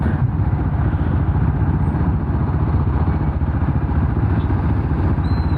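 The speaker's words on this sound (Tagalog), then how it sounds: "ito ang pila ng mga motor dito sa service road" A queue of motorcycle engines idles and putters together on a Metro Manila service road in a continuous, close rumble with a rattling edge, like traffic waiting.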